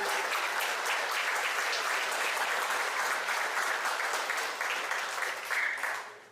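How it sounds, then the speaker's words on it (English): At an athletic sports banquet, a crowd gives a warm round of applause for young athletes, a full, continuous clapping that stays strong for several seconds before tapering off abruptly. "let's give these young men a round of applause"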